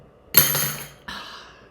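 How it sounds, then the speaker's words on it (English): Wooden or plastic toy rings drop onto a vertical wooden dowel, giving two sharp clinks in quick succession, the first louder, each with a short ringing decay. "then we'll just see how that makes it satisfying little clinking too"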